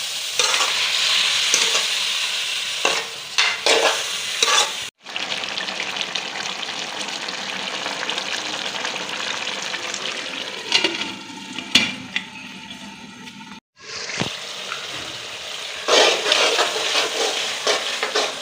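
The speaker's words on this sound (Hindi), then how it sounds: "अब हम इसमें ये टिंडे की सब्ज़ी जो हमने काट के धो के रख ली थी, अब ये डाल देंगे।" Chopped tinda (apple gourd) fries in masala with a steady close sizzle, broken by repeated scraping stirs of a spoon against the pan and two brief cut-outs in the sound.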